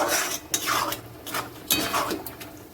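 Spice masala for mutton is stirred and sautéed in a pan, producing repeated scraping sweeps of a spoon against the metal, close and moderately loud, over a soft sizzle.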